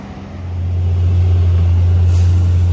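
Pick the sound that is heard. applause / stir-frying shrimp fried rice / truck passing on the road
truck passing on the road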